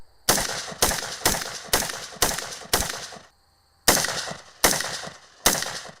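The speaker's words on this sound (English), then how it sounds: "He fires the rifle first." Rifle fired at targets in a state prison yard: ten sharp, loud, close gunshots at an even pace, with one longer gap before the last three, each shot followed by a brief echoing decay.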